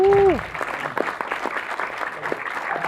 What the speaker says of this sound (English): I wasn't begging that applause